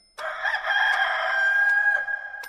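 A rooster gives one loud, clear cock-a-doodle-doo crow lasting about two seconds, sounding close and alone with no other noise.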